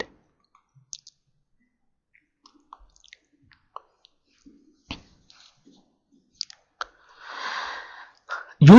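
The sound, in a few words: mouse clicking while creating a site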